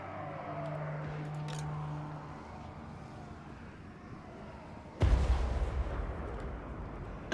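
A cannon in the Total War: Warhammer video game booms after a quiet stretch of low battlefield rumble, with a sudden loud blast followed by a dense, noisy crash that gradually fades.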